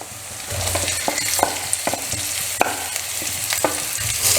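Sliced onions frying in a pan and being stirred, a close steady sizzle with regular sharp scraping strokes of the spoon.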